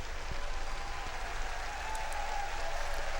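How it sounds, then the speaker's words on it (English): Steady applause from a show audience, a dense wash of many hands clapping at a distance, continuous and even throughout. "See, they're clapping, Christopher."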